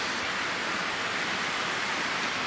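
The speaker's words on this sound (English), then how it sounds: "Look at that behind me. A waterfall." Steady, dense roar of falling water from a waterfall, an unbroken broadband rush at even loudness with no voices over it.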